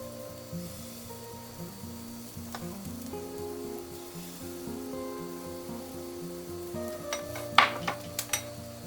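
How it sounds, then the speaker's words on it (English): Qatayef pancake batter cooking in a hot pan, giving a soft steady sizzle throughout with light clinks of a utensil against cookware, a few sharper clatters near the end. "You want to let the pancakes cook until the top is all set"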